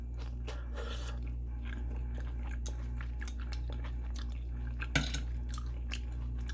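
Close, quiet chewing of stir-fried Korean fish cake (eomuk bokkeum), with soft sporadic bites and a few sharper crunchy clicks over a steady low background hum, no talking.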